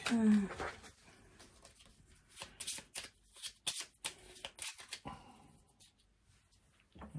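Playing cards being shuffled at close range during a tabletop board game, a series of quick riffling and tapping bursts with short pauses between them, fairly quiet.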